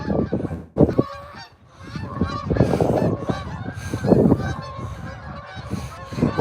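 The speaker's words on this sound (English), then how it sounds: "Geese over there. Geese up there." Geese honking as they fly over a reservoir on a fishing trip, many loud overlapping honks close overhead, continuous and busy throughout.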